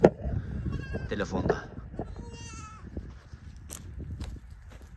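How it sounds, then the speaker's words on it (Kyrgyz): An orphaned kid goat bleats near a shepherd's flock, a few wavering cries early on, while someone talks over it and footsteps shuffle. "Бир жетим улагым бар мына."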